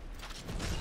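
A brief mechanical clatter of weapon reloading in the game Anthem, a short creaking, ratcheting click sequence lasting under a second, fairly close and alone.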